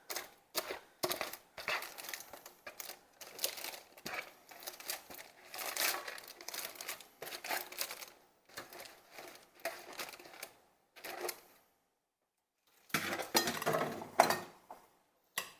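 A pasta salad with roasted peppers, onions, tomatoes and whole garlic cloves is tossed in a bowl, producing close, irregular clattering and soft rustling in quick bursts, followed by a short silence and then one more burst.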